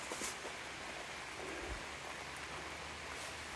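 Steady, quiet rain falls on a farm in an even hiss that continues unbroken, with no voices and no other distinct sounds.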